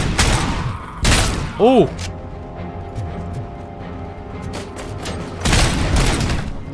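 Video game gunfire and grenade blasts boom loudly in short bursts at the start, around the one-second mark and near the end, with a voice exclaiming in between.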